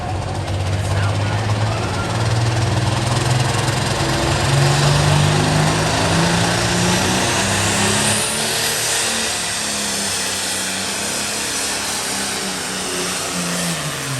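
A 1973 International 1466 pulling tractor roars at full power at a tractor pull, a loud, continuous engine drone over a long stretch with a faint announcer's voice beneath it.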